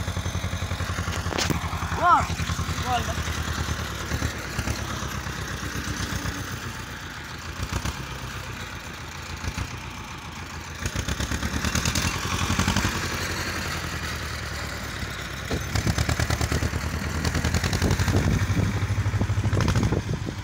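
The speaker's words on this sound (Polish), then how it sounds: "Teraz możecie się posłuchać dźwięku silnika." A tractor engine runs steadily at close range with a low rumbling drone, rising in intensity toward the end, while someone talks over it.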